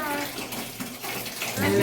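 Water gushes out of an emptied electric geyser at home through a removed hot water outlet pipe, a steady close splashing rush, with a voice faintly heard over it.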